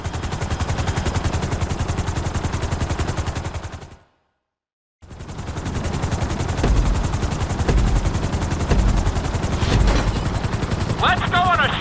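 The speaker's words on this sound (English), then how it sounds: "we're gonna put you in a helicopter for this lesson" A helicopter in GTA V, its rotor chopping in a fast, steady pulse close by, cutting to silence for about a second before resuming, with some beeping game sounds near the end.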